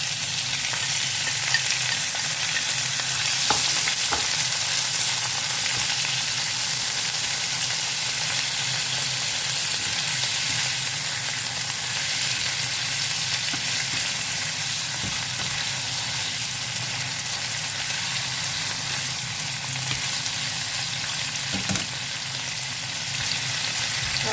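A whole squid stir-fries in a wok for Thai basil stir-fry, giving a steady, loud broadband sizzle with occasional clacks of a utensil against the pan, with no voices over it.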